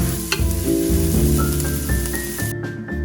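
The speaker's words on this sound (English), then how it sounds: "Add in all your shallots and cook in medium heat. Keep stirring them to make sure they don't get burned." Shallots sizzling in a pan over medium heat while being stirred, a steady close crackling fry with scraping movements and no talking.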